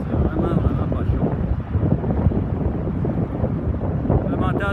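Wind at Lac Leamy beach in Gatineau, Quebec, buffets the microphone in a steady, loud, rumbling roar that runs throughout, with a voice partly buried beneath it.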